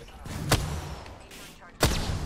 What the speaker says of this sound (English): Just run up and chuck a grenade.